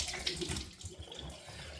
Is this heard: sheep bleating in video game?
no